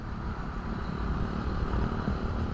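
Motorcycle engines at a motorcycle anniversary gathering at a sports complex in Laguna rumble in a dense, steady low drone, several bikes blending together nearby without clear individual passes, and no speech is heard.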